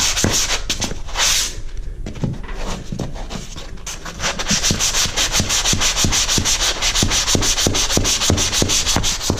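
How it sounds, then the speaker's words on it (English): A power sander grinds drywall mud off inside corners of a pantry remodel, a loud close abrasive hiss with rapid rhythmic scraping strokes, briefly lifting off the surface before settling into a steady pulsing rhythm. "So I'll just take my sander that I showed you earlier."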